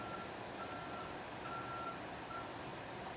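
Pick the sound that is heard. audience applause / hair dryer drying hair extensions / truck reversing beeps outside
truck reversing beeps outside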